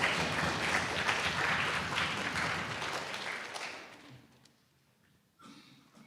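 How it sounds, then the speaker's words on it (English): A synagogue congregation at a Kabbalat Shabbat service claps in welcome, a moderate burst of many hands that thins out and fades to near silence within a few seconds. "can we actually give like Sid some welcome applause?"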